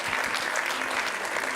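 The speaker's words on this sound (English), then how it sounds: "Give him a round of applause," Audience applause during a motivational speech: a brief, even burst of crowd clapping, moderately quiet and continuous, with no talk over it.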